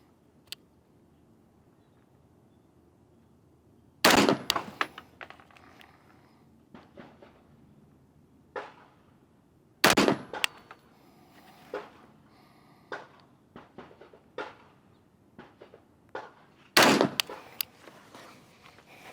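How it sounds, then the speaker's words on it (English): Three rifle shots fired while zeroing an optic at an outdoor range, each a sharp, loud crack spaced several seconds apart, followed by smaller clanks and handling noises between them. "We're gonna go ahead and take 3 shots."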